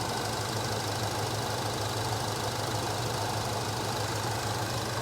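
A fuel-injected Chevrolet El Camino engine idles with a steady, even rumble and low mechanical knock, unchanging throughout and close by.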